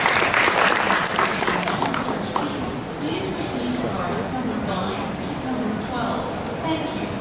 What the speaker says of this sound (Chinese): 接下来让我们掌声欢迎许慧平老师以及大安国中弦乐团